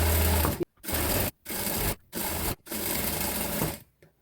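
A sewing machine stitching a shawl runs in five loud, close bursts of rapid needle chatter, separated by brief silent pauses.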